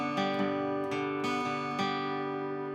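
Acoustic guitar picks a repeating fingerstyle pattern, a low G bass note alternating beneath ringing treble strings, close and clear with no talking.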